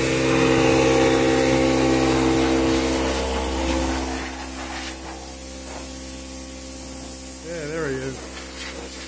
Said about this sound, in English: he's using the blower